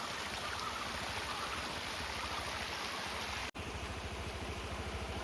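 A small stream flows out of a cardamom forest with a steady, continuous rush of water, close and even throughout, with a brief dropout partway.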